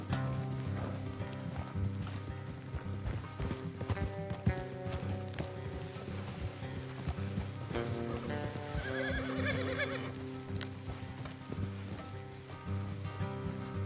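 Horses clip-clop along a road off the trail in the western video game Red Dead Redemption 2, steady hoof beats with an occasional neigh, set against a soft background of rain and ambient score.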